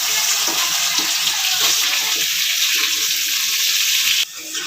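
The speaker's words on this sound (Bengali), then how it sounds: "মাছ ভাজার তেলেই আমি ভেজে নেব আলুগুলো" Potatoes fry in oil left over from frying fish for a Bengali drumstick fish curry, giving a loud, steady broadband sizzle with light stirring clicks throughout, briefly dipping near the end.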